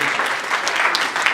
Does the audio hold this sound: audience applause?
yes